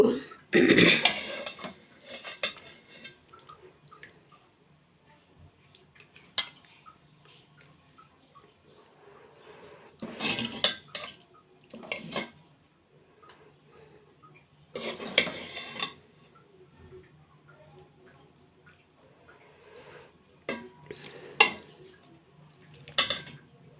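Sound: dishes and utensils clinking while serving cooked greens

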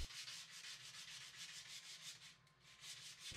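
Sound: sanding a wooden shaft

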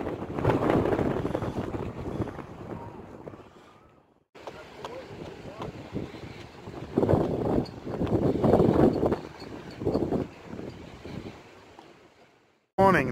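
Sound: wind blowing on the microphone outdoors

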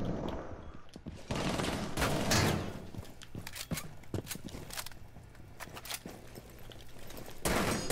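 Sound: gunfire recoil in a video game

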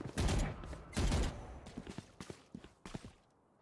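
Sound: gunfire from the video game Valorant

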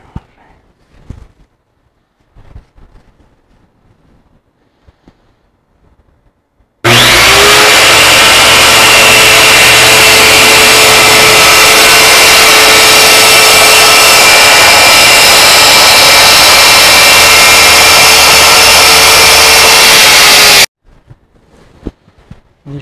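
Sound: power saw cutting trailer side wall panel

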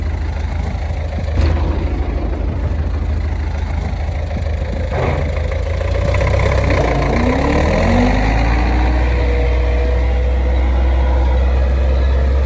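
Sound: MTZ-82 tractor pulling AG-2.1-20 disc plough on wheat stubble

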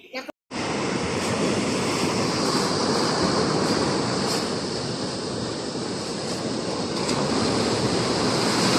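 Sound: strong sea waves during habagat monsoon

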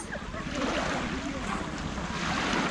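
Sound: sea waves at Pissa cove

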